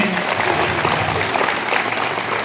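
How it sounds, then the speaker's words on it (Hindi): Loud, sustained clapping from a crowd at a community gathering in Lohardaga, Jharkhand, welcoming a guest. It forms a dense, steady wash of hand claps throughout, with no distinct voices on top. "उनके लिए भी जोरदार ताली से हम लोग स्वागत करेंगे"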